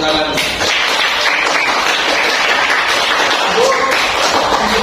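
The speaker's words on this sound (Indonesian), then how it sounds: "Tepuk tangan." Students in a classroom clap together, a loud, steady burst of hand claps lasting several seconds at close range.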